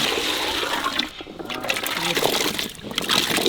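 Water poured steadily into a pot while cooking senai kizhangu (elephant yam) for cutlets, a loud continuous splashing gush with brief dips in flow, no talking.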